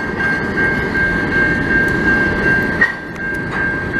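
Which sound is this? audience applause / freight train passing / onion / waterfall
freight train passing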